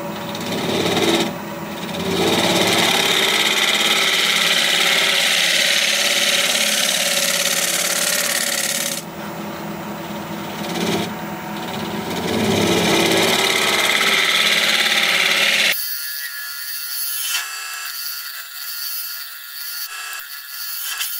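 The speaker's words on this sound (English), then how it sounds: "I'm going to switch to my negative rake scraper" A negative rake scraper cutting a spinning wood piece on a lathe gives a loud, rough, continuous scraping roar in long passes with brief breaks, then a quieter, thinner machine whir for the last several seconds.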